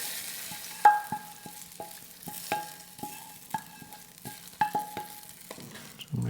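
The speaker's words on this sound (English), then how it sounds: "put back in this hot pan, and it makes another ShoooN noise" Lentils sizzle and fry in hot tarka oil in a pan as they are stirred, with repeated sharp clinks and scrapes of a spoon against the metal pan over a steady close crackle.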